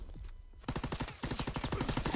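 Rapid automatic gunfire in the Modern Warfare video game, a dense run of sharp repeated shots after a brief lull, close and loud with a steady fast rhythm.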